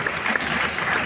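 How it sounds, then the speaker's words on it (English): Brief burst of applause from an audience at a film awards show in a theatre, a steady patter of clapping at moderate level. "a round of applause for Dr."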